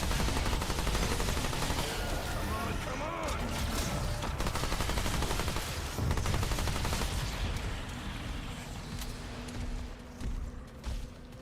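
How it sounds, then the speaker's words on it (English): Cannons in Remnant 2 fire in rapid, dense bursts, a loud continuous barrage of booming shots that fades slightly near the end. "I've had those guys just start rapid firing those cannons and they will drop you."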